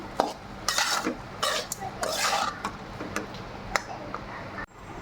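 Chicken curry being stirred in a pan: a utensil clinks and scrapes against the metal in steady, close strokes, with brief sharper knocks and a short pause near the end, and no talking.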